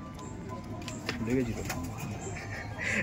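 Andhra Madrasi Lambari and Rekdar pigeons on show for sale give a brief low coo partway through, heard close under people talking and background noise.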